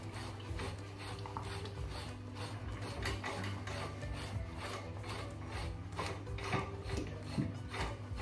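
A Labrador's coat is brushed with a Furminator deshedding tool, giving a steady, close raspy rubbing of repeated strokes through the fur that runs without a break.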